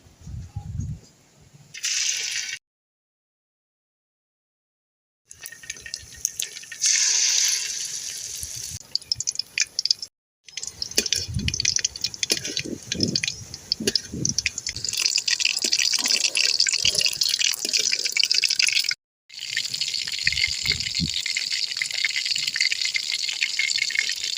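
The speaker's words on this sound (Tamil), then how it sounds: "கொஞ்சம் கொஞ்சமாக எண்ணெய் ஊற்றி பொரிச்சிக்கலாம்" Marinated fish fries in oil in a village kitchen, a continuous bright sizzle with crackles and spits, close and fairly loud, broken by a few silent gaps.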